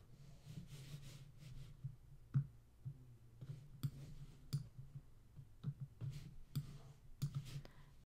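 A computer mouse clicks during work in Cricut design software, giving a series of soft, close, irregularly spaced clicks over a faint low hum.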